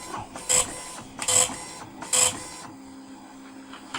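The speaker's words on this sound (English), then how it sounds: "And if we go F8 to print, and we'll just zoom back around to the printer." Dot matrix printer driven by a BBC Micro, printing in three loud buzzing bursts of head passes separated by short pauses, then a quieter mechanical whir as the paper feeds.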